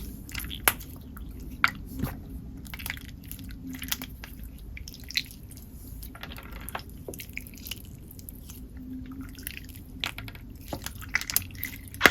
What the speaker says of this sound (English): It's the same squishy, flubbery type of slime that you can squish, squeeze, and stretch